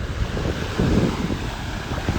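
Clean ocean waves at sunrise wash in steadily with wind noise on the microphone, loud and close, making a constant surf roar without speech.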